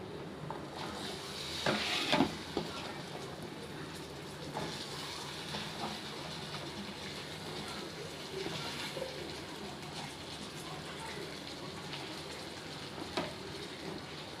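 Potato fry being stirred in a pan after the washed, drained potatoes go in, giving a steady low sizzle with a few louder scrapes and clatters of the spoon against the pan, with no talking.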